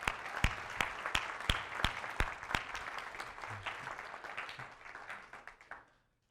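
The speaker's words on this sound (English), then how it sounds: "So let's give them a round of applause." A church congregation applauds its host team: sharp individual claps at first, then a rapid, dense patter that fades away toward the end, moderately distant in a large room.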